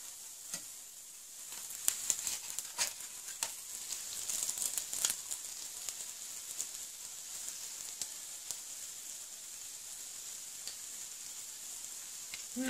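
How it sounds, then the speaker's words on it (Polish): American pancakes frying in a pan, a steady close sizzle with soft crackles and scattered pops that rise briefly as the batter is turned, continuing evenly throughout with no talking. "I znowu jeszcze raz obrócimy na tą stronę, co już jest tu usmażone, żeby się jeszcze troszkę podsmażył."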